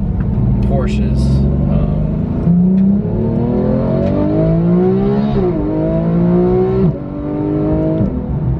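A Porsche GT3 with PDK transmission in manual mode accelerates hard, its engine note rising in pitch through repeated gear changes with brief drops between, loud and close, with a voice talking over it.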